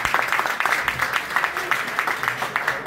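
An audience claps at a political event for a state house district representative, a dense, steady patter of many hands kept up evenly and moderately loud.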